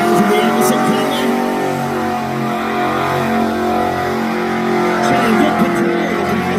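A race car corners at speed at Wellcamp Motorfest, its engine a steady, fairly loud drone that holds through the whole stretch with faint tyre noise. Background talk runs underneath.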